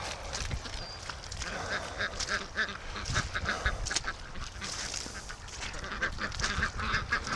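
Ducks quack repeatedly at a lake, some calls near and some farther off, in a busy overlapping chorus over outdoor background noise, with a brief voice.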